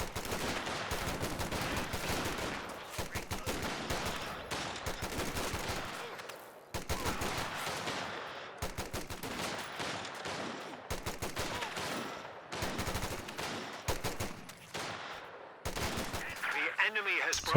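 G43 rifles and double-BAR riflemen trade fire in the strategy game Company of Heroes 2, a dense, continuous clatter of overlapping gunshots and bursts, steady and busy throughout with only short gaps.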